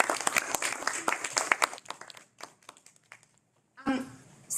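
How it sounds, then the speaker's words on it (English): Audience at a climate tour meeting in Sydney claps to welcome the speakers: a burst of sharp individual claps that thins out and fades to near silence, then a brief renewed patter at the end. "we didn't stop for an applause for Zedi, but please join me in welcoming all of our speakers"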